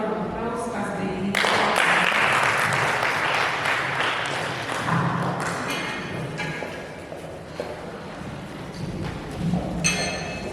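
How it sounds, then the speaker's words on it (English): An audience at a high-level meeting bursts into loud clapping that swells, then thins out and fades before a brief renewed patter near the end; voices murmur underneath. "Please let's give them a round of applause."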